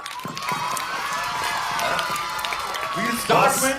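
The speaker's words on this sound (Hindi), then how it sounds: "तो बच्चा पार्टी के लिए तालियां हो जाए एक बार।" A crowd claps and cheers for a group of children on stage at a Hindi film promotional event, applause rising noisily over chatter and a host's voice, with a loud burst near the end.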